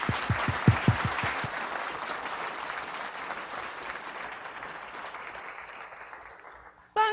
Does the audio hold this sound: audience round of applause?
yes